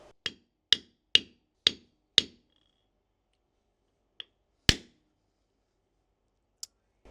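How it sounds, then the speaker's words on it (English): A hammer drives a screwdriver used as a chisel to break chunks off a lamp during a smart-lamp conversion. Five sharp, evenly spaced taps come first, then a pause, a light tick, one loud crack and a final faint click. "breaking parts of this off in chunks with a hammer and a screwdriver that will be used as a chisel"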